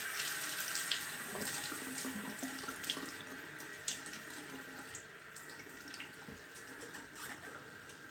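Cold tap water runs steadily into a sink at close range, a constant faint hiss with small splashy variations and no talk.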